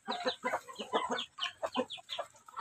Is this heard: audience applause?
no